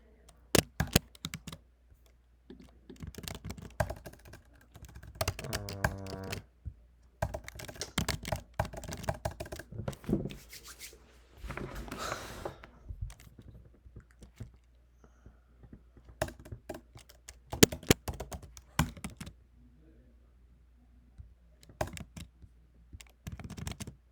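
Typing on a computer keyboard while building a calculator web app: bursts of rapid, close key clicks with pauses between, and brief talking in places.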